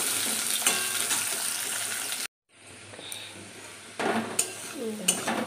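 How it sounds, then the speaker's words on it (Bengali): Potatoes frying in a pan for a Bengali potato curry, a steady sizzle broken by a brief gap, then resuming with utensil scrapes and clinks against the pan. "আলুগুলো এবারে লাল করে ভেজে নেবো"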